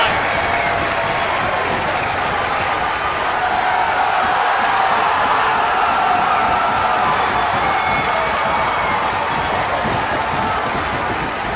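Steady, loud cheering and applause fills a wrestling arena in WWE 2K, a sustained crowd roar that swells slightly in the middle without any break.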